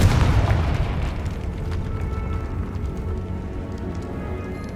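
A Confringo fire spell explodes in the Hogwarts Legacy video game, a loud booming burst at the start that trails into a long, fading crackling rumble.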